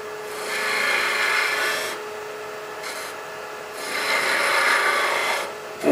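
A skew chisel takes successive light cuts on spinning wood in a lathe, a rasping scrape that swells and fades in two long passes over the steady whir of the machine, with no talking.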